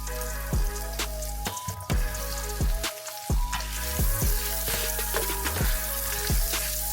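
Fully cooked beef sausages crisping in a hot pan after bacon, a steady close sizzle with scattered pops and occasional sharp knocks of utensils or the pan throughout.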